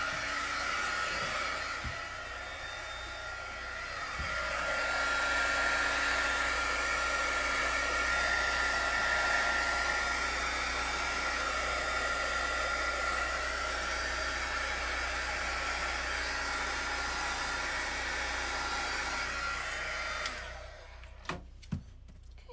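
A loud blowing tool runs over resin geode coasters made with blooming ink. It gives a steady, close roar of rushing air for about twenty seconds, then cuts off, followed by a few sharp knocks, with no talking.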